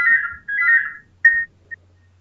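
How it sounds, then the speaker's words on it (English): A mobile phone ringing with a tonal electronic ringtone, two longer pulses followed by a shorter one and a brief blip, loud and clear against a quiet low hum. "There goes my phone."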